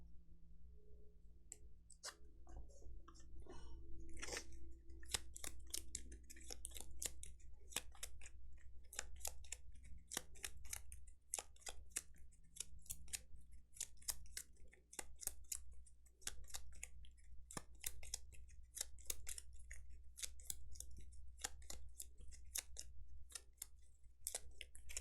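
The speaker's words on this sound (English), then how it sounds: "Lots of shuffling." Gloomhaven board game cards being shuffled over and over, a steady run of crisp riffling clicks and snaps, close and fairly loud throughout, with no talk.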